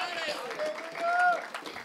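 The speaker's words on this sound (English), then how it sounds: "Somebody give the Lord a hand clap of praise." Congregation clapping in praise during a church service, a brief scattered patter of hands heard under lingering voices and a faint held tone.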